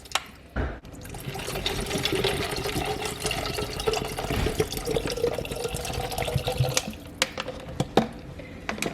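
Bottled water poured into another bottle, a close gurgling stream with splashes and small drips, steady for several seconds and ending in a few scattered drops.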